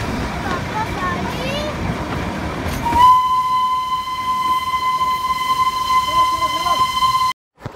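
Heritage toy train at Ghum station in the hills near Siliguri, rolling past with a rumble before a loud, steady whistle blasts for several seconds and then cuts off abruptly.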